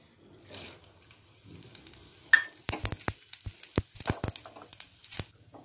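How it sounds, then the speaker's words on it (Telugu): Mustard seeds and tempering spices hit hot oil: a faint start gives way to a burst of sizzling, then a run of sharp, close crackles and pops at irregular intervals. "ఆయిల్ వేడయింది, దాంట్లోకి పోపు దినుసులు వేసుకుంటున్నాను."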